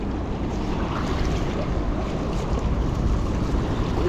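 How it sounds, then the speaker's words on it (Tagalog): Heavy surf rolls and crashes continuously, a dense roar of water mixed with gusty wind buffeting the microphone. "Lakas ng alon yan ah."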